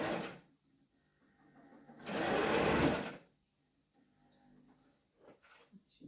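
Sewing machine running on wool fabric in a home setting, one sustained loud stitching burst of about a second alongside shorter quieter runs, with faint handling noises between them.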